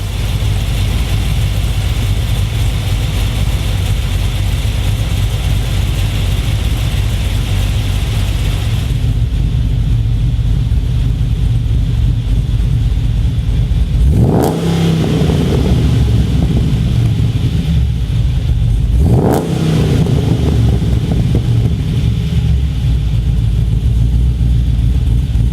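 An LS V8 fitted with a forced-induction camshaft idles with a steady, lumpy low rumble, then is blipped twice, each rev rising sharply and dropping back to a loud, continuous idle.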